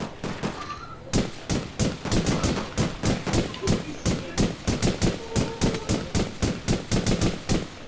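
Rapid bursts of loud gunfire in the video game APB, single shots and short volleys in a fast irregular rhythm, continuing throughout with no voices.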